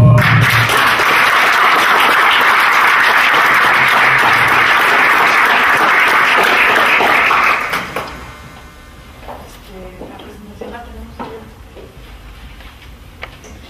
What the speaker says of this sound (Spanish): Denles un fuerte aplauso